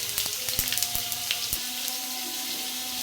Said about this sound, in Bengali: এখন এর মধ্যে দিয়ে দিচ্ছি তেজপাতা আর দারচিনি আর এলাচের কিছু ফল, এগুলো ফোড়নে দিচ্ছি।